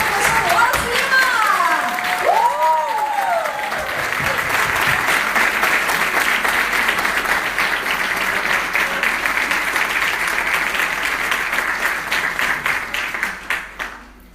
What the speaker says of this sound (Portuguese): eu quero aplausos, muitos aplausos